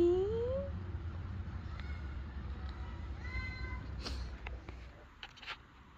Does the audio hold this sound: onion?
no